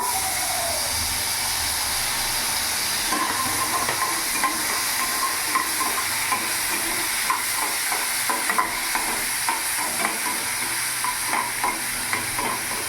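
Chopped large onion frying with whole cumin seeds in hot oil, a steady sizzle with repeated scraping stirs through the clip, no voices.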